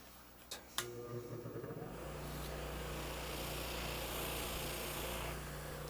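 A power buffer fitted with a soft finish pad spins up after a few knocks and then runs in a steady low hum, polishing a rosewood guitar fretboard with clear carnauba-candelilla paste wax, close and constant.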